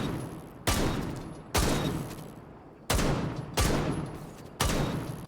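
Gunshots fired at training dummies in Rainbow Six Siege: five sharp single shots spaced about a second apart, each with a decaying tail, loud and alone.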